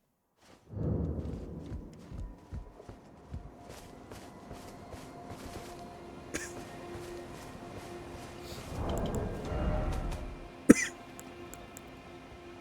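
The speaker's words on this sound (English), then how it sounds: "A little bit of a cough right now." Muffled coughing and throat clearing come in scattered bursts over faint background noise and light shuffling, quiet and close, with a brief sharp click near the end.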